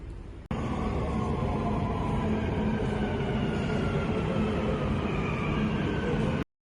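Dubai Metro train riding between stations, a loud steady interior rumble of wheels and motor filling the whole stretch, with a faint voice partly audible under the noise.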